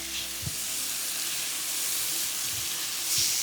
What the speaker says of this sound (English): add about 2 tablespoons of lime juice. And let's stir that around a bit.